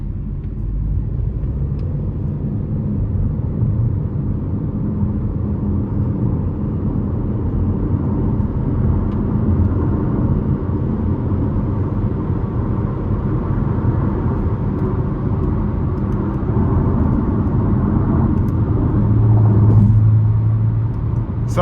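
A 2026 Chevy Trailblazer LT accelerating onto an interstate from inside the cabin, a loud steady low engine and road rumble that builds slightly near the end, with no talk.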